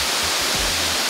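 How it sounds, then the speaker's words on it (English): A big waterfall in the jungle of northern Thailand roars as a loud, steady, broadband rush of falling water, close and continuous with no voices. "This is a really nice waterfall."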